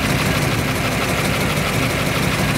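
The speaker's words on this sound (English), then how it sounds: "Sounds like a solid lifter motor." A 1962 Ford Galaxie with a 427 side-oiler solid-lifter V8 and tri-power idles loudly and close, its rough, lumpy rumble steady with a constant ticking valvetrain clatter.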